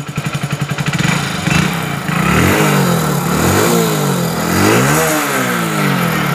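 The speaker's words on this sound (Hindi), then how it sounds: "और बाइक को करेंगे स्टार्ट।" A Hero HF Deluxe BS6 motorcycle engine catches after an electric self-start, its rapid starter pulses giving way to a loud close-up idle that revs up and down in several swells.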